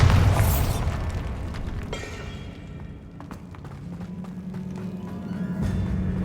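Bombarda spell blast in the Hogwarts Legacy video game: a heavy booming explosion at the start fading into rumble, followed by scattered thuds, clicks and pops of game combat.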